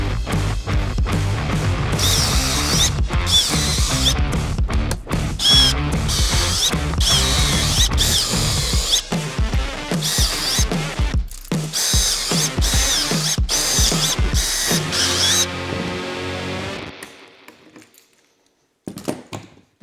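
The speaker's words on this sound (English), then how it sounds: "Now we got to drill some pocket hole screws so that we can screw everything together" A power drill drives pocket holes into plywood, loud whirring bursts starting and stopping in a choppy rhythm with clicks between, close up, with no talk, winding down and falling quiet at the end.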